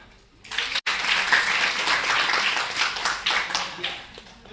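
An audience at a university visit breaks into applause, a dense wash of many hands clapping that rises quickly and holds steady, moderately loud, with some talk underneath.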